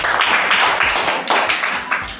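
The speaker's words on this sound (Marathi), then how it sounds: "गीतासाठी सगळेजण टाळ्या वाजवा." Students in a classroom clap for a classmate named Geeta, a steady round of close, crisp hand claps with a few louder bursts, heard alone without talk.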